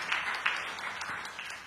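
Applause in a church during a sermon, a brief burst of many hands clapping together, dense and fairly close, holding steady throughout.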